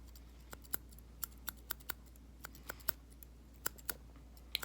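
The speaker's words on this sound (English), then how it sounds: "I'm gonna go back in with my more shorter but smoother shears" Short, smooth hairdressing shears snip hair during a haircut. About a dozen crisp, close clicks come at irregular intervals over a quiet room with no talking.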